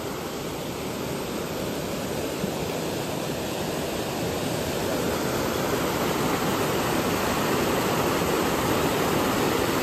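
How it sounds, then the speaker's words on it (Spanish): A creek swollen by recent rains rushes steadily, filling the whole span with dense, broadband water noise at a constant level, close and continuous with no voices. "Revivió este arroyo y todos los de los lugares cercanos de aquí, bueno, revivieron con estas lluvias."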